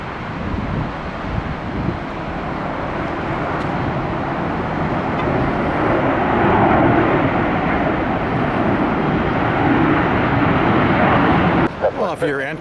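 A large airliner passes over a bridge near Tampa airport, a broad, steady roar that swells to a peak midway and stays loud throughout, mixed with heavy wind buffeting on the microphone.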